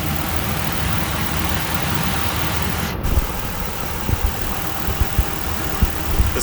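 A car engine idles steadily at low revs with the lights and air conditioning on, a constant low hum with a few soft knocks and clicks toward the end and no voices.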